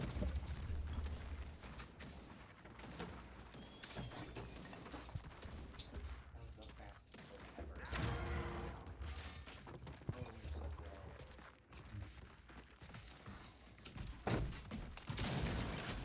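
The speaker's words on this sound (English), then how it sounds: "Shooting at my own team now" Gunfire in the Gears of War multiplayer beta, with bursts of rapid shots and mechanical weapon clatter that come and go against a busy game background, fairly faint overall.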